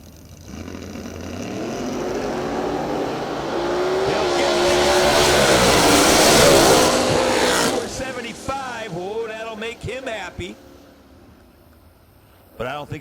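A drag race car makes its run at the Yellow Bullet Nationals. The engine roar swells to a loud peak and then fades as it passes, and an announcer keeps talking throughout.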